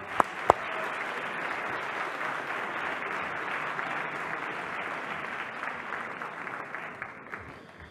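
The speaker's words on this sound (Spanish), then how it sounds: "Por favor, un fuerte aplauso" Audience applause at a blog awards ceremony, the Bitácoras 16 prize for best art blog, a steady dense round of clapping from a crowd lasting throughout with a couple of sharp knocks near the start.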